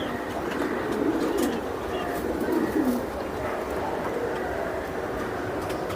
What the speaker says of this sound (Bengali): এই যে দেন আরেকটা কবুতর